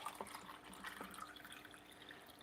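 Filtered room-temperature tap water poured from a pickle jar into the top of a potted plant, a soft trickle with scattered drips, quiet and close, alone without talk.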